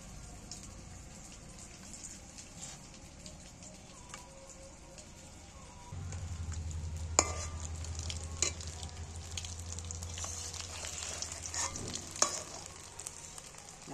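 Pieces of vegetable omelet frying crisp in oil, flipped one by one; a steady sizzle grows louder and fuller partway through, punctuated by occasional clacks of a spatula.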